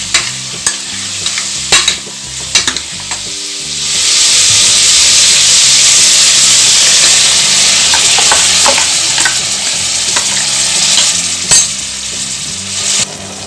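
Masala sizzles and hisses in a pan of country chicken gravy while a spoon stirs and scrapes, starting with scattered clinks before a loud, steady fry takes over, alone and close.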